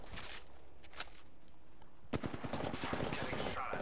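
Gunfire in the shooter game Apex Legends: a few isolated shots, then a rapid automatic burst of dense repeated cracks, fairly close, with game sounds behind.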